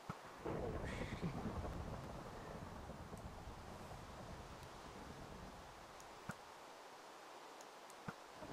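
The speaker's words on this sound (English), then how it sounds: "I can't see you through the rain." Video game rain hiss fills the scene steadily, with a deep rolling rumble of thunder early on and a few sharp ticks scattered later; no one speaks.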